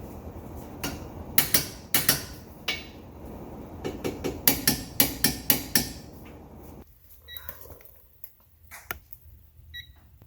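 A torque wrench tightens brake bolts on a Toyota Prius during a brake job, sounding as a burst of sharp metallic clicks and clacks up close, followed by quieter scattered taps.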